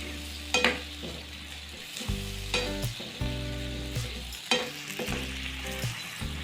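Carrots cook in a pot with chicken and mutton for Chinese rice, giving a soft sizzle broken by repeated clanks and scrapes of a spoon stirring against the metal pot, fairly quiet and without talk.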